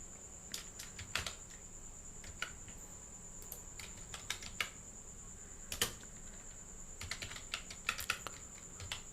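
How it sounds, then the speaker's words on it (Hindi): Steady typing on a computer keyboard in a quiet room, with irregular bursts of keystrokes and brief pauses between them and a faint steady high tone behind. "टाइप करना है।"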